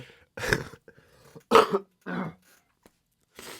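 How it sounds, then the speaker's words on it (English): A person coughs loudly several times in separate harsh bursts with short quiet gaps between them, close and dry, ending with a softer throat-clearing. "I coughed really loud."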